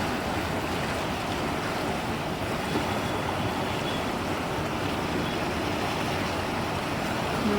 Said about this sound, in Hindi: ये देखो जी, गंगा का पानी किस तरह बह रहा है।